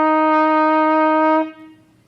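A trumpet holds a single bright F, fingered with the first valve and pushed by fast air, sounding loud and close for about a second and a half before cutting off into a brief fading ring.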